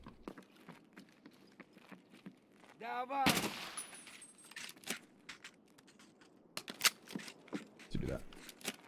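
Gunshots ring out in Escape from Tarkov, most likely distant fire from AI scavs: sharp broadband cracks scattered irregularly across the stretch, some single and some in quick bursts, over a quiet ambient bed, with a brief voice partway through.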